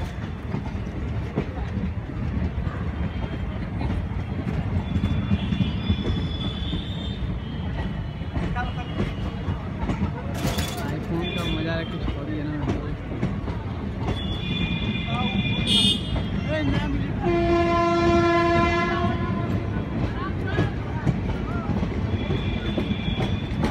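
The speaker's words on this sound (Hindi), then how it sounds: "ट्रेन निकल गई" A train passes close by with a continuous rumbling clickety-clack of wheels on rails and a sustained horn blast near the end, loud, while voices talk over it.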